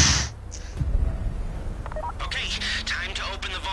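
Phone dialing in the video game GTA Online: a quick run of short electronic keypad tones over steady in-game background noise.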